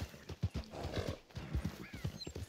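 Horse hooves clopping at a steady rhythm in the Red Dead Redemption 2 video game, close and fairly loud, with a brief whinny-like cry partway through and no talk over it.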